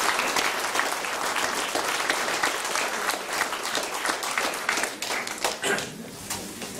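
Sustained applause from an audience at the opening of a maritime book fair, a dense crowd clapping steadily for several seconds, close and lively, tapering slightly near the end.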